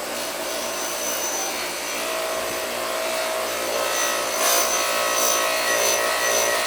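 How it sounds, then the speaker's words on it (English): A polishing machine buffs an aluminum part from a vintage Honda Z50 or CT70 mini trail motorcycle to a satin finish. It makes a loud, steady whirring drone with abrasive rubbing, continuous and close. "So this is like using sandpaper, but I'm using a machine to do it now."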